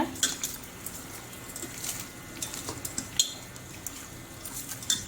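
Chicken being kneaded by hand in a bowl with turmeric and rock salt, quiet wet squelching with occasional sharp clinks against the bowl, close and fairly faint, no talk.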